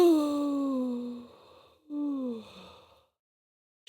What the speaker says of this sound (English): She let out a long, long yawn.